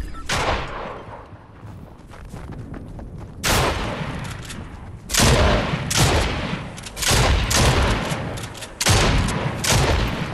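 Bursts of gunfire in the Fortnite video game, loud repeated volleys of shots coming in clusters with short gaps, some sharp booms, and no talk over them.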